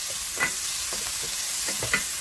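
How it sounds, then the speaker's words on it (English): Diced onion frying in a pan for an Ethiopian vegetarian dish, a faint steady sizzle with a few soft scrapes of stirring. "cook the onion well until it's translucent"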